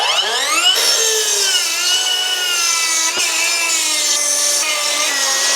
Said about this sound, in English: take 6 of your 2x6s and cut them in half into 4 foot sections